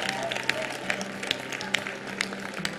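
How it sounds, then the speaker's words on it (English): Audience applause for Team Snipers from Ghana during a CFO TV series competition, steady crowd clapping with scattered sharper claps throughout, moderately loud and continuous. "Team Snipers is from Ghana, so let's give them another hand of applause"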